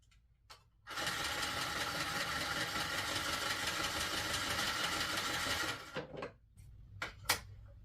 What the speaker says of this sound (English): the serger did it with ease